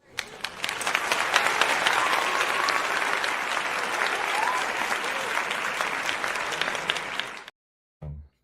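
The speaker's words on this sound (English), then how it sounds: "Well, let me give you your applause." A burst of applause is played for a guest on a discussion show. Loud, dense clapping runs steadily for about seven seconds and then cuts off abruptly, followed by a brief low thump.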